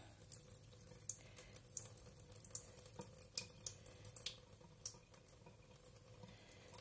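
Water trickles and splashes quietly as it is poured and drained from a small houseplant pot after repotting, a faint continuous flow with soft irregular drips and pattering, no voices.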